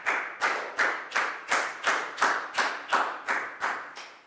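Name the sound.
classroom applause for a student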